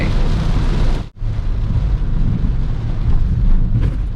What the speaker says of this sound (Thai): แต่ตอนนี้ฝนตกหนักมาก เราต้องค่อยๆไป